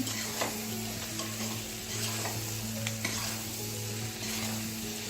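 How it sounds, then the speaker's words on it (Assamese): Jackfruit pickle sizzles steadily in a pan while being stirred, a close, constant frying hiss with occasional scrapes and clicks of the spoon, no voices. "এনেকৈ কিছু সময় ভাজা হ'বলৈ দিম।"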